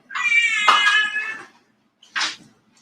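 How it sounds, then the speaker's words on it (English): An almost 20-year-old talkative cat gives a long, drawn-out meow followed a moment later by a shorter second meow, both close and clear with no talk. "She is an almost 20-year-old cat, but she's also a chatty catty."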